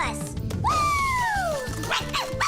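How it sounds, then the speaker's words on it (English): A cartoon dog gives a single rising yelp or whine over a music bed, with a short bark-like call near the end, loud and close. "I don't know what she's barking about"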